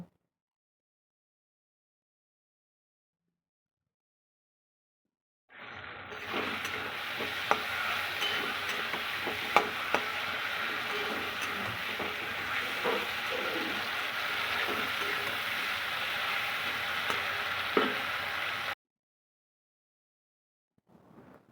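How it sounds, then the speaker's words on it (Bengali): A spice paste with slit green chilies sizzles in a pan for a fish curry, a steady moderate frying hiss with light stirring ticks, starting after silence and cutting off abruptly. "মশলাটা আমার বেশ ভাজা ভাজা হয়ে এসছে"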